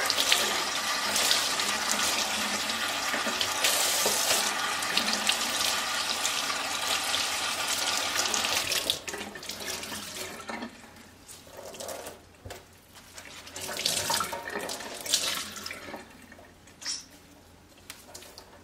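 Warm water running from a kitchen tap onto cheesecloth, a steady loud gush for several seconds that cuts off into softer splashing, drips and wet handling sounds.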